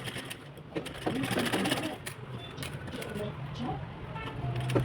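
A sewing machine stitching the seams of a size 38 princess-cut designer blouse, running with a continuous mechanical whir and rattle close by, while someone talks over it.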